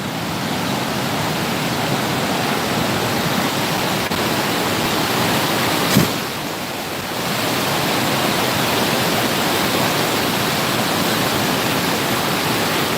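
Niagara Falls roars as a steady, dense wall of rushing water close by, continuous and loud, with a brief dip and a small sharp click near the middle.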